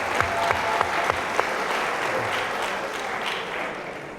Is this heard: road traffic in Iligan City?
no